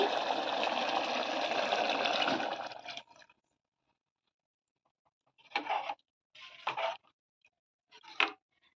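Water pouring into a pot of soaked basmati rice for veg biryani, a steady rushing gush for about three seconds, then silence broken by a few short splashing bursts.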